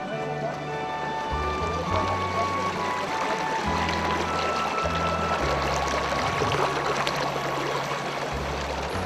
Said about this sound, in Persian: صدای پای آب به گوش می رسد